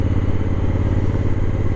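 A 2019 Honda Africa Twin Adventure Sports motorcycle engine runs with a steady, loud, low throbbing drone on the road, close and continuous.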